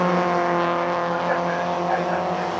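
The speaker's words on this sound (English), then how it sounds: "Throws the car into the chicane" MG race car at Oulton Park driving through the chicane, a loud steady engine drone with dense harmonic whine, close and continuous, with a commentator talking over it.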